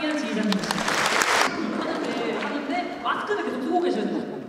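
An audience applauds a symphony orchestra in a concert hall. A burst of clapping swells in the first second and a half, then fades under a speaking voice and light crowd murmur.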